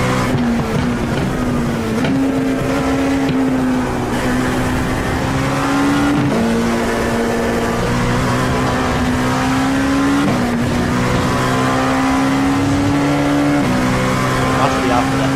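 Race car engines from the iRacing video game drone steadily at high revs, with the pitch rising and dropping sharply at each gear shift, loud and continuous throughout.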